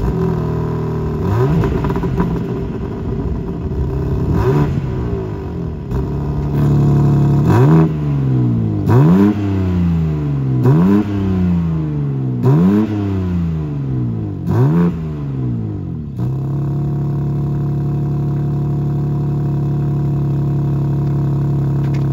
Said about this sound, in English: I'm going to jump in, give it a bit of a rev.